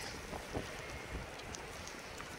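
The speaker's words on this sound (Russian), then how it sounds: "Чисто туман и сильный ветер." Steady strong mountain wind in fog and snow at Lago-Naki in the Caucasus roars and buffets the microphone, a low, rough rumble with faint hiss above it, continuous throughout with no voices.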